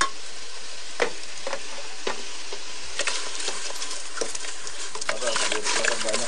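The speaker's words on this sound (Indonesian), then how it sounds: "Adonan jenang yang sudah diaduk rata selanjutnya dimasak dalam panci yang berisi air yang sudah mendidih dan terus diaduk-aduk." Jenang dough cooking in a pot of boiling water is stirred steadily, giving repeated scraping strokes over a constant bubbling hiss.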